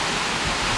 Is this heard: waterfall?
yes